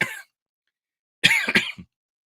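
Two separate bursts of harsh coughing, a short one followed after a pause by a longer rough fit of several coughs, close and fairly loud.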